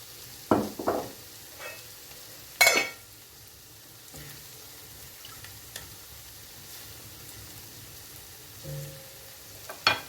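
Vegetables sauté in a pan for a lentil soup, a soft, low sizzle broken by a few sharp scrapes and clinks of a utensil stirring against the pan.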